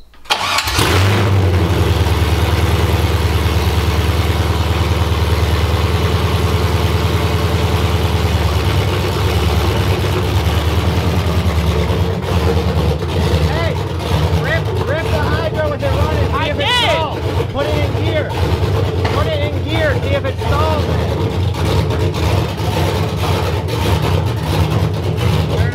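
A BMW V8 car engine cranks and catches, then runs at a steady, rough idle with some slight revving. It stays loud and close throughout, and a person talks over it at times.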